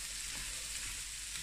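Minced meat seasoned with oregano fries in a pan, a steady close crackling sizzle that runs without a break and with no voices.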